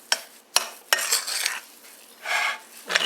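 A spoon stirring einkorn biscuit topping batter in a bowl, several quick scraping knocks and clinks in a short irregular rhythm, close and fairly quiet with no talk.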